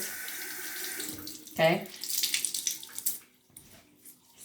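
Tap water running into a sink to wet paper towels, a steady splashing flow with a brief louder gush partway through, as one short word is spoken.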